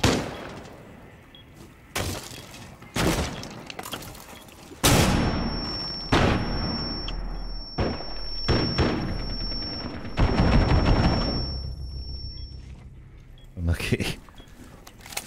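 Gunfire in the video game Rainbow Six Siege, a series of loud separate blasts, among them a shotgun, spread through the clip with a long ringing tone in the middle, while players talk throughout.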